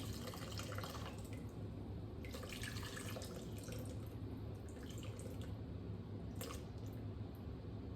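Water poured into a sourdough starter mix, a soft, continuous trickling and splashing with a few wet squishy drips, close up and fairly faint.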